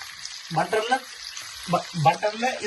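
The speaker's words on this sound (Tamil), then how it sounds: "இத பாருங்க, இது பொரியுது." Food sizzles faintly as it fries in butter in a hot pan while a person talks nearby, their voice coming in short bursts over the frying.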